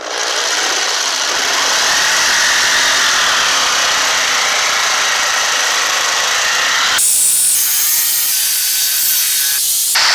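A power saw grinds steadily through a wood panel inside a Ford Transit camper van, loud and continuous for several seconds, its tone shifting abruptly partway through the cut.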